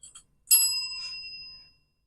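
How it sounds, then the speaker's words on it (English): A bell is struck once after a couple of faint taps, giving a bright metallic ring that hangs and fades out over about a second, alone and fairly close. "That was a bad bell"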